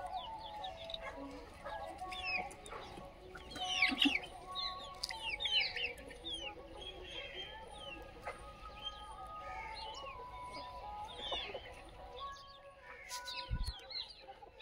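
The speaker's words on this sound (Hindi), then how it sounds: "ये असील के बच्चे हैं, प्योर असील" Pure Aseel chicks and hens on a village poultry farm, with soft clucking and chirping scattered through steady outdoor bird chatter, moderately near and unhurried.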